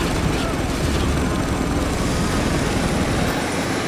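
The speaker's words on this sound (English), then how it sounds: "So there's a lot of choppers here." Helicopters fly over Dubai in the shooter video game Spec Ops: The Line, a loud, steady, dense rotor roar filling the whole stretch without letup, close and continuous with gameplay noise mixed in.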